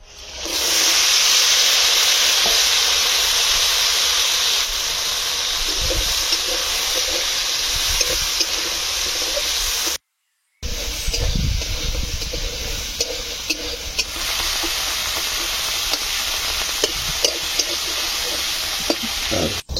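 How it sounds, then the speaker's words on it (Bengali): Small crabs with a little salt fry in a pan, a steady loud sizzle with bubbling hiss and occasional stirring scrapes that runs on with a short break partway through. "সামান্য লবণ দিয়ে এবার আমি কাঁকড়াগুলো ভালো করে ভেজে নিয়ে নেবো"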